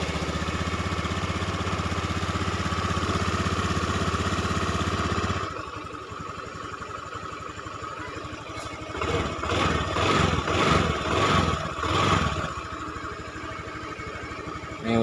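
A motorcycle engine runs steadily after an oxygen sensor fault repair, then after a brief drop it revs up in several bursts, loud and close with no talking.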